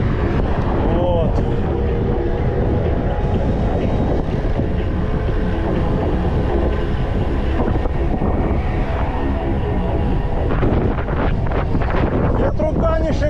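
Strong wind on the Crimean coast buffets the microphone in a constant loud roar and rumble, with a voice talking under the noise.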